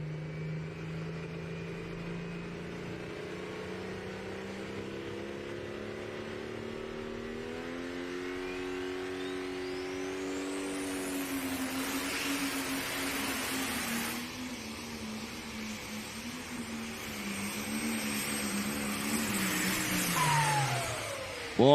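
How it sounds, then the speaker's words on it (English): A drag racing engine with an exhaust leak drones and revs up steadily at the North Iowa Nationals in Rockwell, Iowa, the pitch climbing then dropping off, loud and close with no voices. "Boy, he's got an exhaust leak somewhere."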